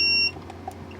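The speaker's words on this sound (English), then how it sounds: "it should beep only when it's on a common side and not when it's on a live side or a ground" A multimeter continuity tester gives one short, clear high-pitched beep at the start while a temperature and light timer for an LED grow tent is probed. Only a faint steady hum follows.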